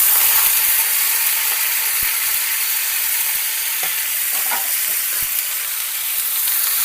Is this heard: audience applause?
no